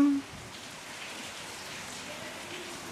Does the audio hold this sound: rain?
yes